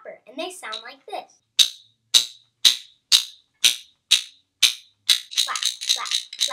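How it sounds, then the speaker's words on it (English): Eight sharp, evenly spaced clacks ring out one after another, then a quicker flurry of clacks, with a voice speaking briefly at the start. "I have a clapper, and they sound like this."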